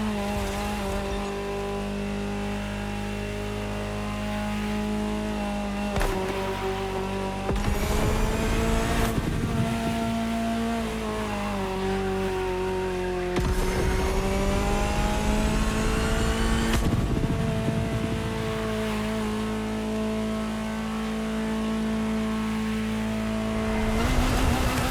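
A Ferrari supercar engine in The Crew Motorfest racing game screams through repeated rising revs and gear shifts, loud and close, with brief tire squeal and no talking.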